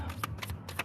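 Tarot cards being shuffled by hand, a quick run of soft papery riffles and slaps repeating several times in under a second, close and fairly quiet with no talking.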